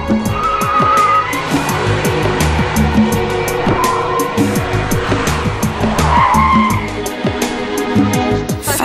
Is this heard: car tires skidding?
yes